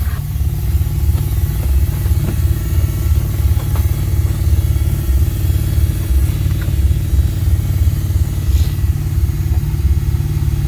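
A car's exhaust note with the engine idling steadily, heard from inside the vehicle: a loud, low, even rumble that runs the whole time with no talk.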